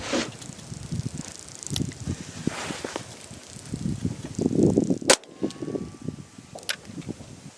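A Ruger LCRx .22LR revolver fires CCI Stinger rounds outdoors, giving a few sharp, short cracks, one much louder than the rest, spaced several seconds apart over a rustling background.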